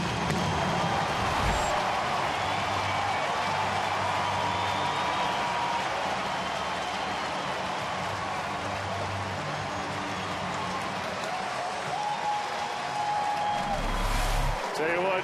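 Large baseball stadium crowd roars and cheers steadily after a home run, a loud sustained wash of voices with a swell near the end.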